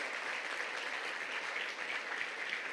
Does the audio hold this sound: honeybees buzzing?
no